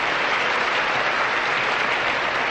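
An audience at the Miss Universe 1988 pageant applauds, a dense, steady wash of clapping that holds loud throughout with no voices above it.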